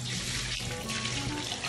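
Water runs steadily from a tap or showerhead over a pet snake being rinsed, a continuous splashing hiss with no voices over it.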